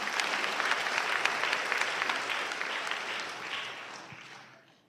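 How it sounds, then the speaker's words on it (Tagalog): A church congregation applauds during a Tagalog sermon, a dense, steady wash of many hands clapping at moderate distance that holds for several seconds and then tapers off into quiet, with no voices over it. "Nakasaan niyo yung palakpak niyo?"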